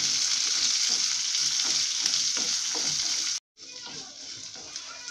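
Long-sliced onions sizzle steadily in hot oil for a hotel-style chutney, a close, continuous frying hiss with light stirring scrapes and a brief break near the end.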